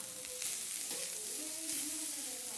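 Homemade fried rice stirred in a hot pan makes a steady, close sizzle, with a few scraping stirs over the continuous frying hiss.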